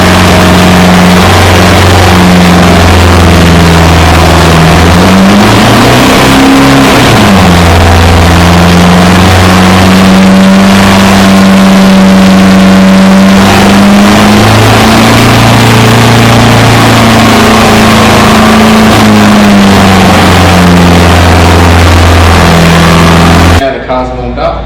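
A 2007 Toyota Hilux N70 with the 1KD diesel engine runs steadily while warming up, a loud, continuous low drone with pitch shifts as the revs rise and fall, cutting off abruptly at the end.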